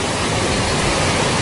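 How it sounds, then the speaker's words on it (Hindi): Naga waterfall in North Sikkim, its water plunging at high speed during rain, gives a loud, steady, dense roar that holds unbroken from start to end with no voices. "नागा वाटरफॉल, कितना हाई स्पीड से पानी गिर रहा है।"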